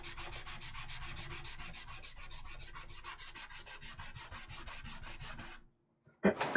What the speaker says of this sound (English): this sanding block comes in super handy